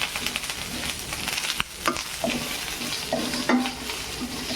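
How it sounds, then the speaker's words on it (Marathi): Curry leaves roasting dry in a pan for curry leaf chutney, a steady close sizzle with scraping stirs and a few sharper crackles and pops standing out over the hiss. "अरे का कडीपत्त्याचा कसा आवाज येते धुवून घेतलेला आहे स्वच्छ आणि याला कडक होतोपर्यंत आपल्याला वाजायचं आहे"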